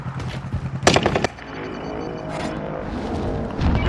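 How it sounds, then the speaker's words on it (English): Gunfire in Call of Duty Warzone on Rebirth Island: a short cluster of close, loud rapid shots, then quieter distant cracks over a continuous rumbling battle backdrop. "They're shooting at me."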